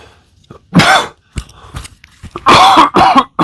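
Several harsh, loud coughs in bursts, a pair early on then a cluster of heavy hacking coughs near the end, with brief throat-clearing between.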